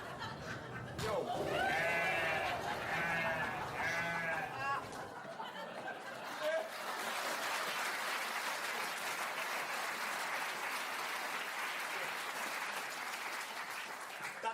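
Wavering sheep bleats rise several times during a theatre comedy about farm folk. Clapping from the audience then swells and carries on steadily to the end under a murmur of voices.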